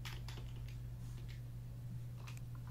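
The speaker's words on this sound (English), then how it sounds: "You type in the text." Keys being typed on a keyboard connected to an Amazon Fire Stick: faint, scattered taps in short bursts over a steady low electrical hum, with no talking.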